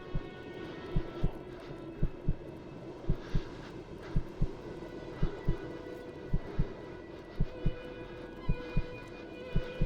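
Heartbeat in the video game Kona, a steady lub-dub thumping in paired beats repeating about every second over a low hum, loud and close.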